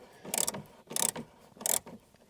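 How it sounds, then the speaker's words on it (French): A hand ratchet loosens a bolt on the rear bumper of a Peugeot 206 in three short bursts of rapid clicking separated by pauses, close and fairly quiet. "vous mettez le cliquet en dessous et vous pouvez dévisser"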